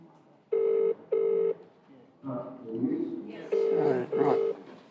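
Mobile phone call tones: two long steady beeps in a row, then a voice and background noise, then two more beeps, close and clear, with talk between them.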